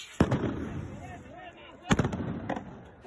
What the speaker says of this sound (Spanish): las calles están destrozadas y se pueden escuchar los disparos.